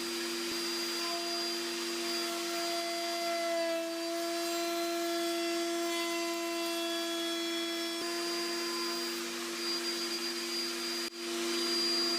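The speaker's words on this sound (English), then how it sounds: "I use a router to shape the hand grips of each sword" A woodworking router shapes the hand grips of a cherry and walnut wooden sword, producing a loud, steady high-pitched whine with a constant motor drone that holds evenly and dips briefly near the end.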